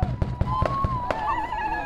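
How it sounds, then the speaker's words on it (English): Celebratory gunfire at a Lakota gathering: a quick run of five or six sharp cracks in a rough rhythm, then a trailing ring as voices sing along underneath. "The song of the American Indian movement mingled with eruptions of celebratory gunfire"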